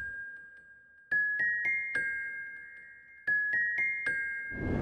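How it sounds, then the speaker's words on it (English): A little melody played on the keys in FL Studio for an ambient sample: bright, bell-like synth notes in two short phrases of quick repeated plucks, each note ringing out and decaying, with nothing else over them. "I played this little melody up top here on the keys."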